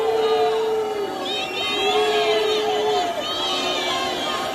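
Climate activists shout and scream at a protest at the Trevi Fountain in Rome, several voices yelling at once in sustained, overlapping cries with a crowd behind them.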